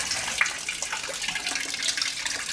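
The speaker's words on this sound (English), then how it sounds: "Draining the fuel out of it anyway." Fuel drains steadily from a 1977 Porsche 911 Turbo, a continuous close splashing, trickling flow with no talk over it.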